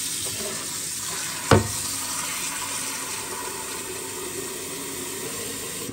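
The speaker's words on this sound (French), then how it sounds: "Ah, il va mettre de l'eau" Water poured into a cooking pot, a steady splashing rush running throughout, with one sharp knock early on.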